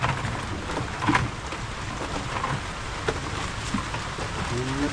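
Steady rain falls during a monsoon season over an ampalaya field, making a dense, even hiss that keeps going throughout with a few faint knocks and no clear talk.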